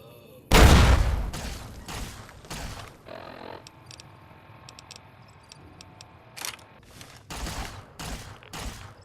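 Enemies trade gunfire in Fallout: New Vegas, opening with one loud, booming shot that rings out and decays. Sparse, sharper reports and clicks follow at irregular intervals, with a cluster of shots near the end.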